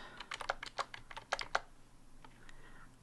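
Amount typed on a computer keyboard during banking teller software data entry, a quick close run of crisp key clicks in two bursts, then quiet with a faint hum.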